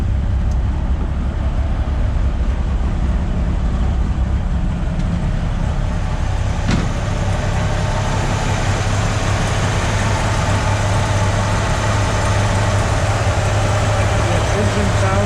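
A 1953 Chevy 3100 five-window pickup's inline-six idles steadily, a continuous low rumble with a faint background hiss and no talking.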